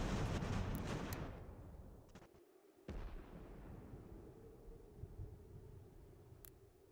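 Booming, rumbling gunfire and artillery-like blasts from the strategy video game Ultimate General: American Revolution, dense at first and then fading into a sustained low roar, with a sharp report near the middle, no talking.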